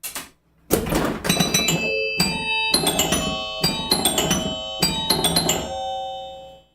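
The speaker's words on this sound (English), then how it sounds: "What's with the chimes?" A home-built Star Wars pinball machine plays a tune on its chimes, a series of bright bell-like strikes in quick melodic groups with short pauses, ringing clearly and alone.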